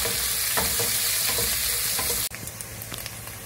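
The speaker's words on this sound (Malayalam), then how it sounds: "സവാളയൊക്കെ നന്നായിട്ട് വഴറ്റാം." Onions sautéing in a pan while making upma, a loud continuous sizzle with rhythmic spatula scrapes that drops slightly in level partway through and carries on.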